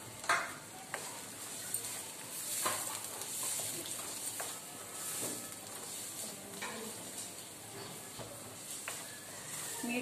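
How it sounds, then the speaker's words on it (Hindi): Chopped onions frying in a pan over a medium flame, a steady close sizzle with scattered stirring scrapes and crackles throughout. "अब हम अपनी प्याज ऐड करेंगे और प्याज को हम थोड़ा सा भूनेंगे"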